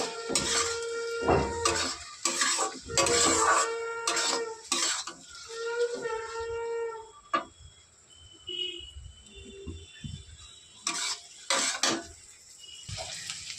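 Chopped onion, tomato and green chilli frying in a pan for masoor dal, with repeated metal clinks and scrapes of stirring in uneven bursts, then a quieter stretch of soft sizzling; close and moderately loud.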